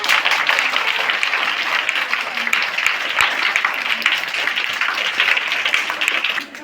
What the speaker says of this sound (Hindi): एक बार पुनः ताली बजाइए।